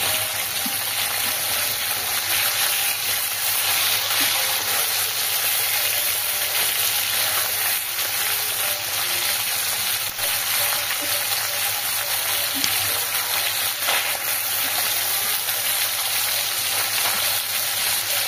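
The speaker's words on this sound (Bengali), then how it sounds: "এবার মাছগুলো তেলের ওপরে দিয়ে দিলাম।" Tangra fish frying in hot oil in a pan, giving a dense, steady sizzle and crackle that holds at an even loudness throughout with no talking.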